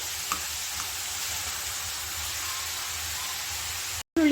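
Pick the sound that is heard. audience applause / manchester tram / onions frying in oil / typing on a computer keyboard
onions frying in oil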